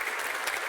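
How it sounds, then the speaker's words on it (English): Audience at a live podcast event bursts into dense, steady applause, a brief close burst of clapping with no one talking over it. "I think we should round of applause for Niamh and for Angela"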